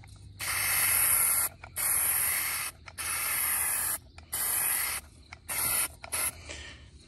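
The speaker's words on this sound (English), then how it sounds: "let's spray down the whole trailer and then we'll go from there" Bursts of coating sprayed onto a camper trailer, a loud close hiss in about six separate passes of one to one and a half seconds each, with short silent gaps between them.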